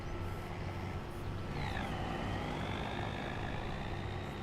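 A truck engine drone builds steadily as the vehicle drives up from behind on a Farming Simulator farm map, a continuous low rumble with a rising whine layered on top, close and loud throughout.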